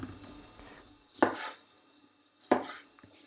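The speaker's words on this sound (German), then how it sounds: "wenn ich darauf warte, dass mein Nudelwasser kocht, kann ich die Tomaten schon mal halbieren." Two crisp knife cuts halving tomatoes on a cutting board, each a sharp thud with a brief scraping tail, spaced about a second apart, close and fairly quiet while pasta water heats for a shrimp spaghetti dish.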